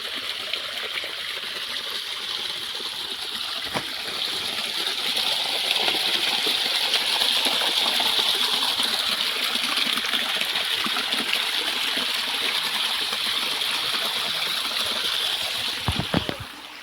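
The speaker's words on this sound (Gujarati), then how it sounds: "છેક ઉપરથી પાણી આવે છે" Water pours down from high above in a village in the Aravalli hills, a steady, loud rushing gush that swells slightly partway through, with a few sharp clicks and splashes near the end.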